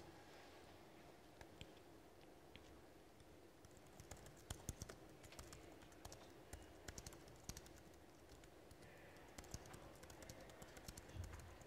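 Someone types on a computer keyboard, producing quiet, irregular clicking keystrokes in close succession against a faint room background, with no talking.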